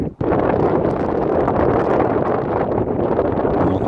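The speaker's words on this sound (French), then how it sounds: "On entend bien le vent ici qui souffle en permanence." Strong coastal wind at the Bares lighthouse in Spain roars constantly against the microphone, a dense, loud, unbroken rush with no voices.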